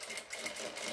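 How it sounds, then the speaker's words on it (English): A sewing machine stitches fabric for an A-line garment, humming in a fast, even rhythmic whir that runs for about a second, close and fairly quiet, with no voices. "now you sew again up until the back stitch you made before"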